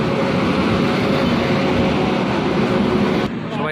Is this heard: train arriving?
yes